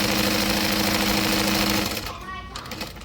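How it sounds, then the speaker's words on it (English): A sewing machine runs steadily at a 3 stitch length, stitching a backpack seam; the loud motor hum fills the first two seconds, then slows and stops, leaving fainter mechanical noise. "I'm sewing at a 3 stitch length."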